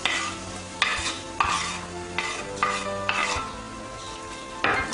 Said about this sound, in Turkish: Isınınca doğradığımız soğanı ilave ediyoruz.